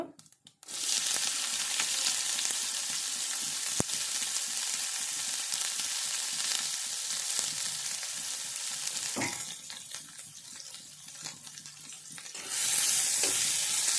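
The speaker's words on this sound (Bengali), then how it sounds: "দিয়ে কিছুক্ষণ ভেজে নেব" Bay leaf, cumin, green chili and chopped onion sizzle in hot oil in a pan, a steady close crackle with a few stirring clicks and a brief dip before the frying swells again.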